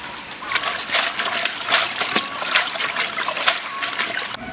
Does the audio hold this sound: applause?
no